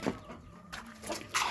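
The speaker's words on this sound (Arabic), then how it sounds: "هوريكم ال5 فراخ" Chickens on a home poultry farm, a few short clucks and squawks close by, in brief separate bursts with quiet gaps between them.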